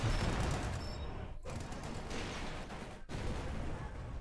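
Sustained gunfire and howitzer artillery bombardment from a Company of Heroes 2 battle, a dense continuous barrage with brief dips in the din, no voices present.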